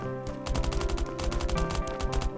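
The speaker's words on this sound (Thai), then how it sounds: "ยังยิงกันอยู่ครับ โห ดูดิ" Rapid automatic gunfire in the survival video game Last Island of Survival, a loud close stream of evenly spaced shots with a brief gap midway.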